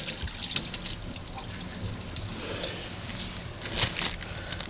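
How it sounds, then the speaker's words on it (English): Water drains from an opened exhaust plug on a ski boat being winterized, trickling and dripping steadily into the bilge, close up, with no talking. "to direct that water to the bilge."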